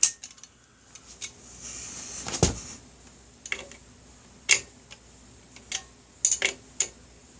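A torque wrench checks clutch bolts on a BigDog 9-plate Kevlar clutch, giving sharp, isolated clicks spaced irregularly over quiet background noise, some sounding as quick doubles.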